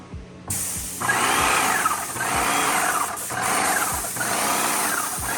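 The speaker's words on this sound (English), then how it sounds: "So now that we got some fresh water flowing into the paint sprayer, now we can turn this back on again" A Graco paint sprayer runs while being flushed with fresh water: a loud, steady mechanical motor hum with rhythmic pulsing whirs repeating about once a second, following a few quiet clicks at the start.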